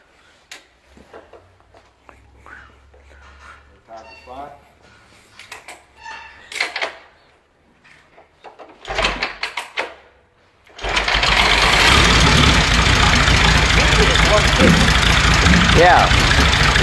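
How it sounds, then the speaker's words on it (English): An Indian six-cylinder motorcycle engine gets a few quiet kick attempts with faint shuffling, then fires on the last kick and runs loud and steady, a dense continuous roar to the end. "it started on the last kick"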